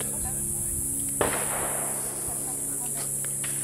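A single sharp crack from a .38 pistol at a gun range, close and abrupt, decaying quickly into a steady high hiss of background noise.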